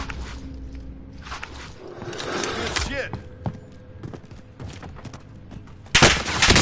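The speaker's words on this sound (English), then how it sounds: "I got somebody shooting at me" Gunfire sounds in a shooter video game, with bursts of shots, thuds and footsteps mixed in, and a loud burst near the end.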